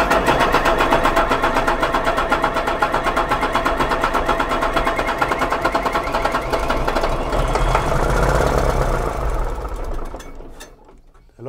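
A Mercedes-Benz MB Trac 80 tractor diesel engine runs close and loud with a fast, steady knocking throb, then fades toward the end before a brief rise.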